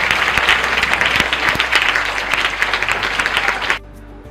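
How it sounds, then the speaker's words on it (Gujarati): Dense, steady audience applause for a humanity group trust at a school event in Navsari, many hands clapping loudly and evenly before cutting off abruptly near the end, leaving faint room tone. "અમારા કરતા વધારે જોરમાં તાળીઓ ઉત્કર્ષભાઈ અને હ્યુમેનિટી ગ્રુપ માટે આપવી છે"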